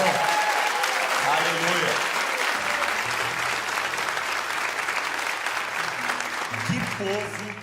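A church congregation applauds loudly and continuously, a dense wash of clapping with a voice calling out and people speaking briefly at the start and end.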